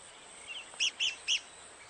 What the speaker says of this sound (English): The rare red cockaded woodpecker lives in this loblolly pine.